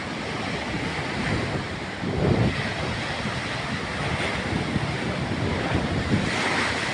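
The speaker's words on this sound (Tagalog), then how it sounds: "ang lalaki ng alon" Big ocean waves roll and crash in a strong wind, a continuous loud roar of surf with heavy wind buffeting the microphone and a brief surge as a wave breaks closer.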